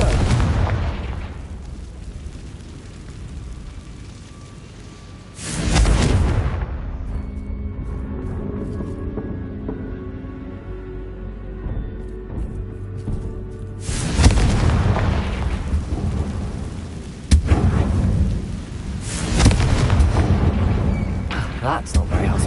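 Confringo blasting spells going off in Hogwarts Legacy: loud booming explosions, a lull with quieter rumble and effects between, then more heavy blasts near the end, with a character voice speaking at times.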